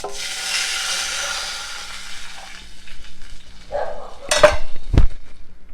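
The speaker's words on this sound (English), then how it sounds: "there goes our the puree and the tamarind juice" Tomato puree and tamarind juice tip into a hot pan while cooking pepper rasam, giving a hiss and sizzle that fades under soft clatter, followed by a couple of sharp clinks of utensils against the pan near the end.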